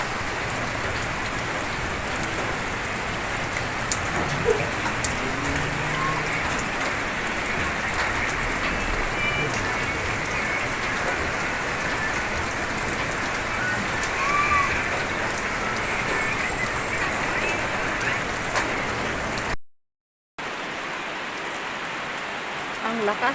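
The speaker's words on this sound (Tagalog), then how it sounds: "Ang lakas ng ulan" Heavy morning rain pours steadily and loudly for the whole stretch, a dense, unbroken hiss of drops with one brief cutout near the end.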